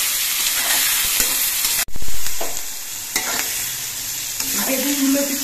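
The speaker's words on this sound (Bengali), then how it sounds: "এবার বেগুনগুলো কিছুক্ষণ ভেজে নিতে হবে।" Eggplant pieces with salt and slit green chilies frying in a pan, a sudden loud sizzle that settles into a steady crackling hiss with occasional stirring clicks.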